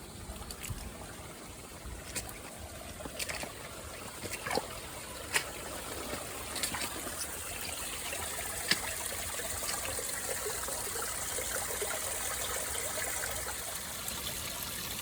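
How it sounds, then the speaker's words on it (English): Water runs and trickles steadily in a nearby stream, a continuous gentle rush with occasional clicks and taps over it. "That's a really lovely calming sound, isn't it? And running water behind me."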